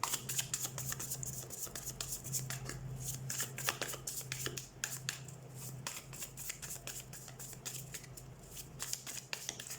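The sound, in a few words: tarot cards being shuffled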